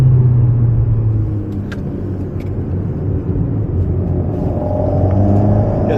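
An Alpine race car on a track drops a gear and pulls away, its engine note rumbling loudly inside the cabin and rising steadily through the acceleration, with no talk.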